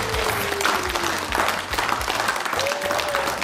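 Audience applause at a Kyrgyz TV show episode, a dense, steady clapping that fills the whole stretch at fairly close range with a faint tonal layer beneath it.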